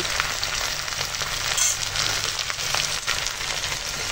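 Eggplant pieces frying in a pan with ginger-garlic paste, turmeric, chili powder and salt, giving a steady, close hiss and crackle that runs unbroken with a few faint scrapes.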